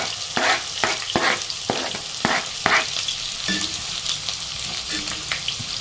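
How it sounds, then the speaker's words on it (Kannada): Cumin seeds crackle and pop in hot oil in a pan, sharp sputtering bursts over a steady sizzle, close up and fairly loud with no voices. "ಈಗ ಇದೊಂದು ಸ್ವಲ್ಪ ಜೀರಿಗೆ ಚಟಪಟ ಅಂತ ಅನ್ಲಿ"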